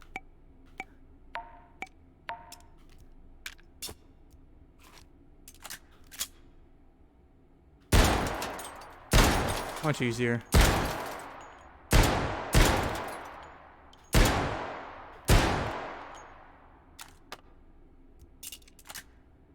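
Rapid virtual gunfire from the VR shooter H3VR: a run of six or seven loud, sharp shots with ringing tails spaced about a second apart, after quieter scattered clicks and taps, and a brief spoken remark near the end.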